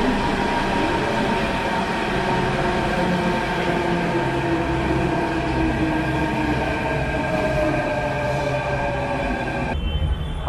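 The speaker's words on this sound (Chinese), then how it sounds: "刚刚现在已经上了地铁" A Delhi metro subway train heard from inside while riding: a loud, steady rumble and rolling hum with a faint whine, continuous for the whole stretch, with no talk.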